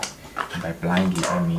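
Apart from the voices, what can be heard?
dog barking loudly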